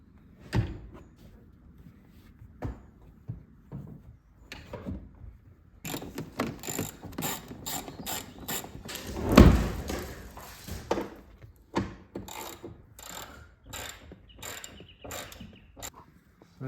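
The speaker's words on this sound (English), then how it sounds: "So here's my screwdriver." Ratcheting screwdriver tightening seat bolts inside a Toyota Corolla, a series of quick clicking bursts with knocks and a louder clunk, close and fairly quiet with pauses between turns.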